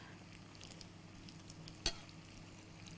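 Pastries such as piroshki, empanadas and shrimp-filled Asian pastries frying in hot oil give a steady, soft sizzle throughout, with one sharp clatter near the middle.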